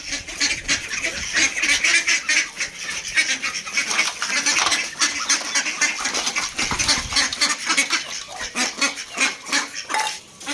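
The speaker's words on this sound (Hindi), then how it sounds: "मुबीन बतखों को घर का बच्चा खाना डालदो" Ducks quack and honk in a noisy, continuous chorus close by while being fed, calls overlapping with scuffling movement throughout.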